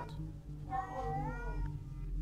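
A cat gives a single drawn-out meow at close range over a steady low background hum.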